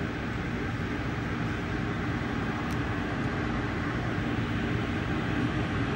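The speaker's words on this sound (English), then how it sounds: "this Lincoln Service train 318 to Chicago" Amtrak Lincoln Service passenger train 318 northbound toward Chicago from Springfield, Illinois, heard from inside as a steady low rumble and rolling noise with no talk.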